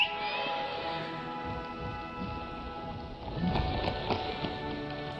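Horse hooves clip-clopping at a steady run with a faint rain-like patter, the rhythm continuous and moderately near, louder in the last two seconds.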